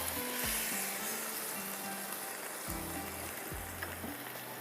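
Rice poured into a pot of boiling water for one-pot vegetable rice, giving a steady close bubbling hiss that runs unbroken for the whole stretch.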